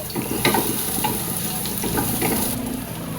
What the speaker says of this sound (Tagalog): Igisa lamang ang bawang